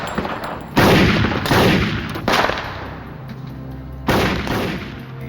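Loud gunshots in a reenacted shootout between FBI agents and a gunman, several sharp reports spaced about a second apart with ringing decay and echo between them, close and forceful.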